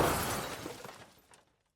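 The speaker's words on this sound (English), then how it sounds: "I could hear them crashing into each other" Cars crashing into each other in a story scene: a loud shattering impact with breaking glass and crunching debris that quickly fades to silence within two seconds.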